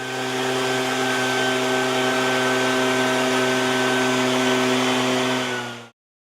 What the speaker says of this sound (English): This mist blower cum duster is an efficient and useful machine for crops on large area.